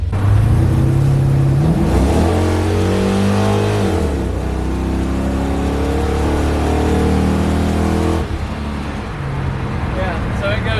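An LS V8 engine being revved up toward wide open throttle, its loud steady drone rising and holding through the clip while someone talks over it.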